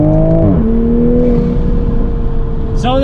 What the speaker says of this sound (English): the turbo, it's such a cool sound